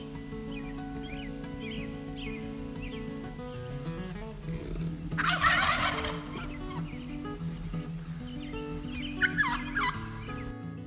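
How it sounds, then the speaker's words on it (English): Wild turkeys gobble in the early spring morning, a few rapid rattling gobbles at moderate distance over a steady background of other bird calls and ambient noise. "Nothing announces the arrival of spring like the gobbles of turkeys echoing through the early morning air."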